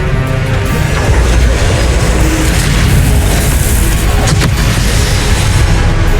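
A Confringo fire spell blasts in Hogwarts Legacy, a loud, dense booming roar of explosions with crackling bursts, continuous and heavy throughout, with no pauses.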